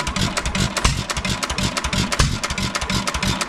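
A Hercules 1 3/4 hit-and-miss style engine runs with only an exhaust pipe and no muffler, a loud, close, rapid chugging beat with sharp exhaust pops.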